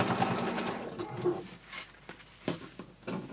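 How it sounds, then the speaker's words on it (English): Sewing machine top stitching on denim for a glitter pouch, a close, steady rapid needle chatter that slows and pauses with a few brief stops and restarts. "then just top stitch on the denim"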